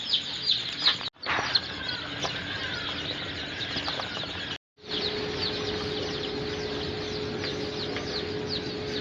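Many chicks chirp together in a broiler farm shed ahead of counting and loading for delivery, a dense, steady high-pitched peeping that continues throughout with two brief dropouts.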